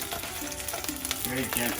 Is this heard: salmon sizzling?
yes